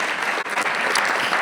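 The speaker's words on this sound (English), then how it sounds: "Huge applause for the center right there." A lecture-class audience at UC Berkeley applauds loudly and continuously, a dense wash of clapping filling the short moment.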